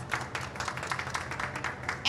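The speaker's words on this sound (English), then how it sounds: "Give her a round of applause." An audience at a biodiversity and soil panel gives a round of applause to a panel speaker being introduced, steady moderate clapping that carries evenly through the moment without a break.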